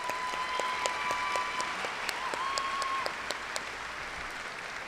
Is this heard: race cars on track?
no